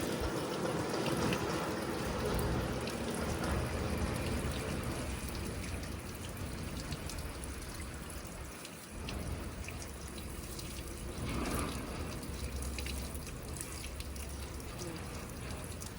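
Continuous rush of running water splashing over poha (flattened rice), steady and close, with faint handling noises mixed in.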